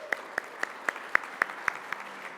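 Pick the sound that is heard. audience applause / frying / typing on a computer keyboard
audience applause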